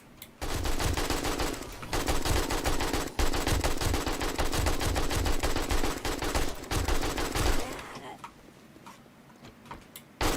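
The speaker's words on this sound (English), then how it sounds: "That's not an AK. This is an AK." An AK assault rifle in 7 Days to Die fires loud, rapid sustained bursts with brief pauses, then tapers off near the end while someone talks over the shooting.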